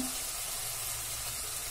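Masala sizzles steadily in hot oil for chole, a continuous faint frying hiss with no voices over it.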